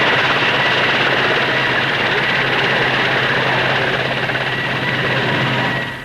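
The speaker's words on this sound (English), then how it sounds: "The Bristol 192 is a twin-engine helicopter in production for the Royal Air Force" A Bristol 192 twin-engine helicopter in flight at the 1958/59 Farnborough Air Show, a loud steady broadband roar of rotors and engines filling the whole stretch before fading slightly at the end.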